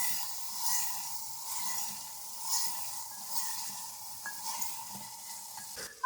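Chicken frying in a pot as tomatoes go in for a handi biryani, giving a steady bright sizzle with occasional stirring scrapes and a soft clunk near the end.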